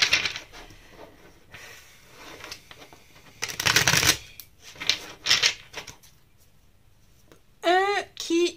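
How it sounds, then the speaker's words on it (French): Tarot and oracle cards being shuffled by hand, several crisp riffling bursts at close range, with a brief high whistling sound near the end. "On va battre des cartes."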